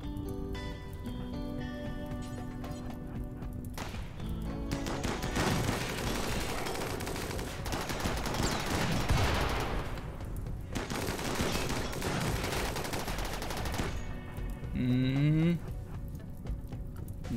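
Bursts of rapid gunfire during a fight in the video game Rimworld, heard as clustered crackling volleys in the middle stretch over game music, while someone comments in German.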